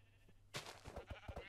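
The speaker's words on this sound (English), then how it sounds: "Sheep." Several short sheep bleats from a Minecraft-style survival video game, arriving in a quick run of repeated calls after a brief quiet lead-in, fairly clear and close.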